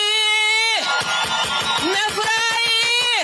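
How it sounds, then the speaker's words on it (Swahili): A campaign rally crowd in Nandi County breaks into loud cheering and applause, dense and close, rising again after a brief dip, with shouts mixed in over a lingering amplified voice at the start. "Mpigieni makofi."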